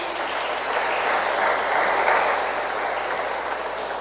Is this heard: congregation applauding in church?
yes